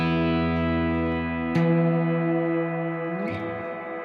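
An electric guitar plays through a Blackstar AMPED 1 pedal with its ambient hold function engaged. One long sustained chord drones smoothly, joined by a new struck chord midway and a softer change near the end, with no voices.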